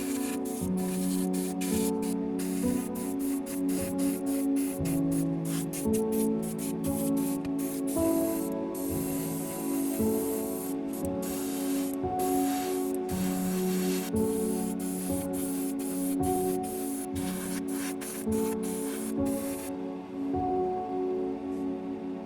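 An airbrush sprays interior green paint onto a P-40E Warhawk scale model in a steady, close hiss, broken by frequent short pauses as the trigger is released, continuing without speech.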